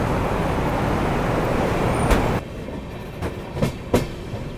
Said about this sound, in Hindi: तो अपनी भगत की कोठी इनॉग्रल स्पेशल डिपार्ट कर रही है रानी कमलापति रेलवे स्टेशन से, बिल्कुल डॉट ऑन टाइम।